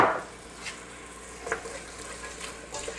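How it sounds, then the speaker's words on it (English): Jambalaya ingredients with andouille sausage cook in a pan, giving a soft, steady sizzle with faint stirring scrapes, close but low in level and heard alone. "over the microphone you can hear this is already starting to cook up a little bit"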